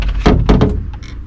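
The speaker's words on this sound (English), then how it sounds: "And the door opens." Aboard a Dutch barge under restoration, a door is opened with a few close, heavy wooden thunks and sliding knocks, followed by a fainter tap.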